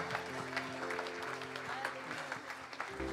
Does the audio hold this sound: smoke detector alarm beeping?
no